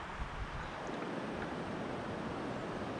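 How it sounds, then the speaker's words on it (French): Steady rushing wind mixed with a mountain torrent roaring below a new metal footbridge on an Annapurna trek in Nepal, a constant broadband wash with no voices. "Le bruit du vent, le bruit du torrent"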